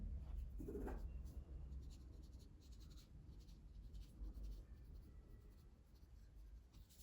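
A pen scratches markings onto felt fabric for a craft wreath base, giving a continuous soft, close scratching with small bursts of stroke movement throughout, fairly quiet and with no talking.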